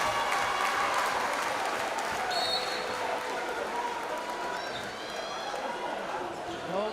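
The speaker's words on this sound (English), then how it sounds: "gets a huge hand from the crowd as he heads for the bench" At a Massachusetts high school boys basketball final four game, a large gym crowd applauds steadily as a player heads to the bench, with sneaker squeaks and chatter mixed in.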